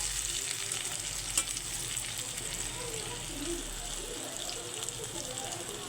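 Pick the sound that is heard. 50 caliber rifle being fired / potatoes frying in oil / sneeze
potatoes frying in oil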